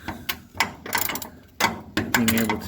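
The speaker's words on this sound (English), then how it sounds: "I don't know if you really need to see me undoing a bolt" A ratchet wrench loosens a bolt on a motorcycle's rear shock in short, close bursts of clicking and mechanical rattling, with brief pauses between strokes.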